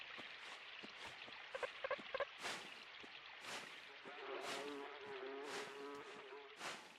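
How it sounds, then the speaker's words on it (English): Steady insect buzzing from flies in the dark platform game Limbo drones throughout, loud and close, with short thuds and game effects layered over it. "Those buzzing bugs make it sound like it smells bad"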